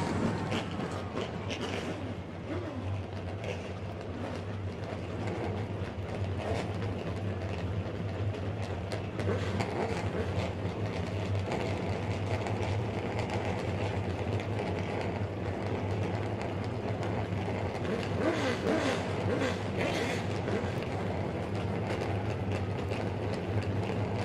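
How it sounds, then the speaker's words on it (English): Stock car engines at a speedway start up and rev together in a dense, continuous roar with rumble that fills the whole stretch, heard from some distance with crowd noise mixed in. "Drivers, start your engines."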